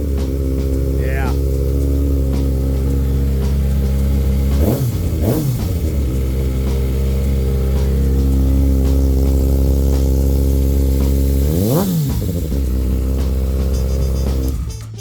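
A 2015 Kawasaki Ninja ZX6R 30th Anniversary Edition sportbike engine runs loud and close with a steady drone, rising in two sharp revs about a third of the way in and another near the end.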